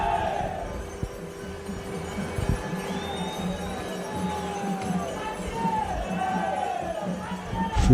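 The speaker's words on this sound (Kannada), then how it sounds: "ಜನಗಳ ಹರ್ಷೋದ್ಗಾರ" A festival crowd at the Chikkalluru Chandra Mandala, with a broad, steady roar of many voices and rising calls and shouts, heard from some distance.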